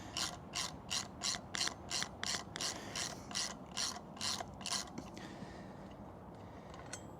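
A ratchet wrench backing out the last bolt on the front wheel of a Honda Shadow 750 motorcycle, a run of quick regular clicks up close that stops partway through.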